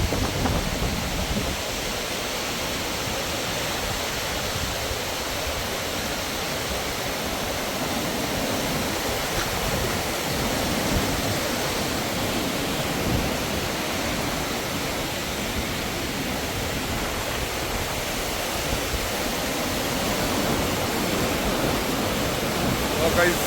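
A large waterfall in the Harsil valley, Uttarakhand, pours with a constant, dense roar of rushing water that stays even and loud throughout.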